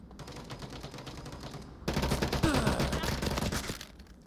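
Sustained suppressive automatic gunfire in the VR shooter Onward during a competitive match, a rapid continuous rattle that jumps louder partway through and keeps going to the end.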